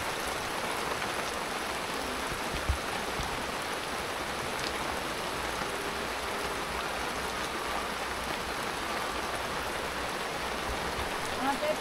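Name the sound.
rain falling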